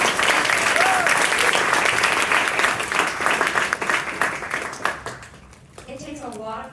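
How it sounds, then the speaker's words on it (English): A live audience applauds a founder presenting a startup at a pitch event, steady dense clapping that swells, then thins out and fades after about five seconds as a voice begins speaking. "Let's give one more round of applause to Rishi."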